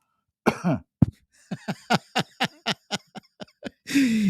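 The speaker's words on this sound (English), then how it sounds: "Elbow cough." A quick run of many short, rhythmic coughs close to the microphone, ending in a rougher throaty burst.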